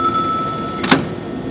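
A telephone rings during a live electronics call-in show, a single close bright ring burst under steady background hum, with quieter tones before it.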